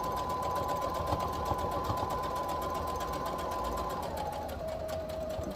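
Sewing machine running a steady straight stitch through fabric for a holiday bookmark, a continuous close mechanical whir with rapid needle pulsing and no talking.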